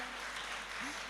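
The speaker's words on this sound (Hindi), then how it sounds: "एक बार जोरदार ताली बजा दिए।" Audience at an All India Mushaira poetry gathering in Amravati gives a brief burst of dense, steady applause, a wash of many hands clapping at once with a low hum underneath.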